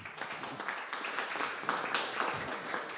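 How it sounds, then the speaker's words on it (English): A round of applause after a startup pitch in an accelerator class: a crowd claps steadily for about three seconds, moderately distant and fairly quiet, with no talk over it. "All right, round of applause for Arun."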